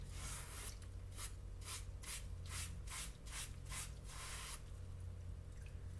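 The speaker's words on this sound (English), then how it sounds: "So give it a good scrub." A pan being scrubbed while washing dishes, about eight brisk rhythmic scouring strokes, soft and close over a low background hum, then a still pause.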